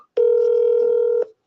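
A single steady telephone tone rings out for about a second, loud and clean, with a sharp start and stop while a call is being placed.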